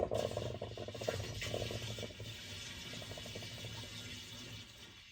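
Liquid pours steadily down a travel trailer drain during winterizing, gurgling and splashing with a faint rattle, close by and fairly quiet.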